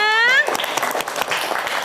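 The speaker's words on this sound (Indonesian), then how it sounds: "coba mana tepuk tangannya?" A classroom of children clapping together on the teacher's request, a brisk burst of applause that starts after a short sung tone and carries on steadily to the end.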